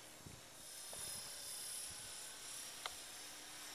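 EXI 450 RC helicopter flying at 2300 RPM, a steady moderate rotor and motor whine held through the whole stretch at a middling distance, with a couple of brief clicks and a short sharp tick near the end.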